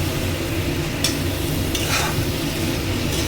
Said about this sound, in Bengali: আলুটা দিয়ে অল্প কষিয়ে নেব।